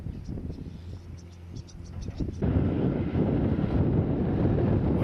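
Wind buffets the microphone on a windy afternoon at the Murray mouth, where sand is being pumped. It is light and gusty at first, then jumps to a loud, steady roar of rushing air.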